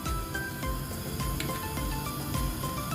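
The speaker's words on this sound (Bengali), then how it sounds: "আমি এখন কোয়েল পাখিগুলোকে একটু ভেজে নেব।" Quail frying in hot oil in a pan, a continuous dense sizzle with crackling pops and spits, steady and close throughout.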